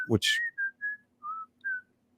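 A man whistles the Andy Griffith Show theme in a short run of clear, bright notes, close and alone, after a brief thump at the start.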